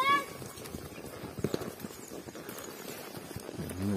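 Horse hooves clip-clop in a steady, irregular patter during a rural tourism horseback ride, fairly close, with faint voices in the background.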